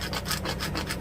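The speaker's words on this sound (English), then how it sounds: "as always, you want to burnish it" Cricut vinyl lettering burnished onto a magnet sign with a scraper tool, a quick series of soft rhythmic rubbing strokes, close up and quiet.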